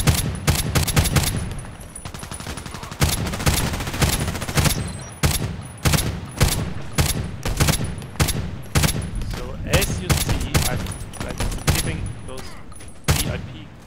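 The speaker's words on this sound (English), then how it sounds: "a lot of shots" HK G36C rifle fired in Contract Wars, loud repeated bursts of rapid automatic shots separated by brief pauses, continuing for about fourteen seconds with faint talk between bursts.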